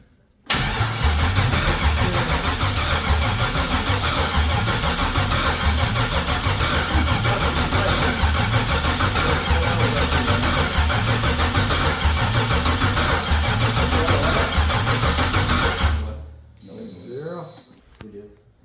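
An LS V8 swapped into a Mazda RX-8 fires up for the first time and runs loud and steady for about fifteen seconds before shutting off, with faint voices afterward.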